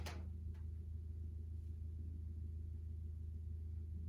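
A car missing its muffler idles with a steady low engine rumble, rough and throaty, with no voices.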